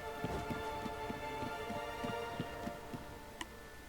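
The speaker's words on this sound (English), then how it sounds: "Storms are coming." Steady rain storm in the video game The Witcher 3, a constant wash of falling rain with faint repeated ticks and soft patter throughout, moderately quiet with no talk.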